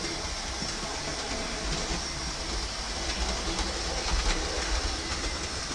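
Model train running steadily on a layout track, a continuous rolling rumble with faint clicking, fairly close and alone without talk.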